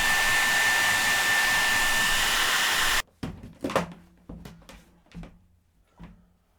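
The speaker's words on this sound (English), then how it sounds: "I use the hairdryer just to warm this stuff up" A hair dryer blows loudly and steadily while warming the neck joint of a 1939-style Martin D-18 guitar during a neck reset, then cuts off, followed by a few light knocks and bench handling noises.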